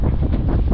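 Strong gusting wind, around 25 knots, rushes over a sailboat under a second reef during a small craft advisory in the Gulf, as a loud, dense roar buffeting the microphone.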